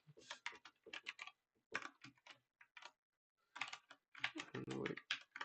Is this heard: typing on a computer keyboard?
yes